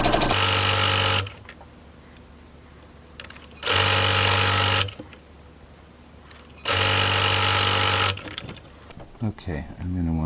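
Sewing machine stitching a homemade fabric face mask, running in three loud, steady bursts of a second or so each, separated by quiet pauses with faint handling noise.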